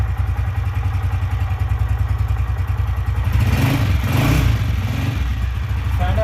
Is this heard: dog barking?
no